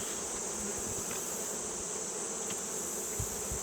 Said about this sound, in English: You get a face full of bees